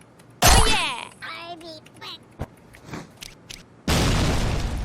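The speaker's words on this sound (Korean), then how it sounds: "수류탄 투척." A grenade goes off in the Sudden Attack online shooter as a sharp, loud blast, then short bursts of gunfire and speech. The clip ends on a second sustained roaring boom.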